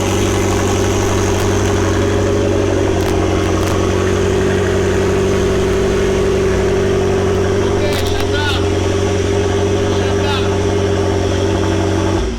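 A McLaren 650S Spider runs at a steady idle after a Vee module replacement, a loud continuous low drone with fixed tonal hum that holds throughout, with a few faint clicks and small shifts in the background.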